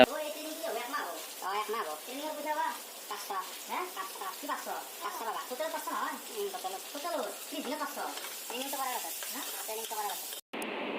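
Spices for mushroom chutney frying in a pan, a soft, continuous sizzle with stirring beneath a person talking throughout, ending in an abrupt brief cut.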